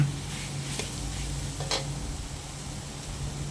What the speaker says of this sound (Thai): นี่ผัดให้เข้ากันเลย